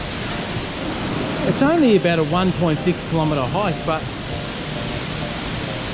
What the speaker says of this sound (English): Don't know if you can hear me over the waterfall.